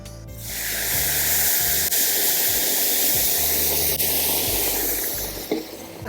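Liquid pours steadily into a pot of beef leg bone curry with a loud, continuous rushing hiss that runs throughout, with faint low clatter underneath.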